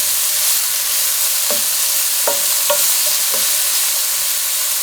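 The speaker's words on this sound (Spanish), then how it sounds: "Y vamos a ponerle la cebolla para que se vaya sazonando." Onion sizzles steadily in a pan for chicken tacos, a constant bright frying hiss with a few soft scrapes of stirring partway through, close and unbroken.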